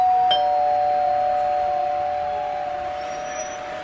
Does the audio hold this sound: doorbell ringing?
yes